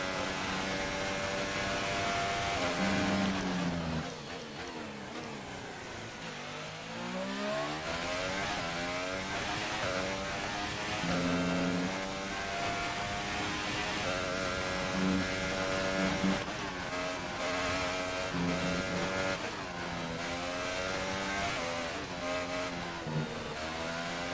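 Formula 1 car in F1 2018 racing through a lap: a loud, high engine whine rising and falling through upshifts and downshifts, dipping briefly around corners before climbing again.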